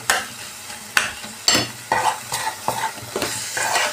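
Tomatoes softening in a pan for mushroom curry, with a soft steady sizzle under repeated scraping strokes of a spoon stirring, each stroke a distinct close knock and swish.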